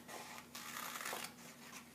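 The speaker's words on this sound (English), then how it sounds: "See how I'm opening and closing my scissors and turning my hand?" Soft, close rasping of scissors cutting paper in a few short strokes, quiet against a faint steady hum, with no talking.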